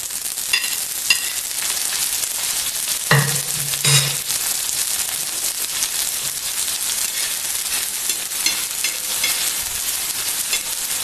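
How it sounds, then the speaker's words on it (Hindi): Onions frying in a pan for tomato chaat make a continuous, fairly quiet sizzle, with a couple of brief utensil clinks around the middle and no voices. "प्याज को भी फ्राई कर रही हूँ।"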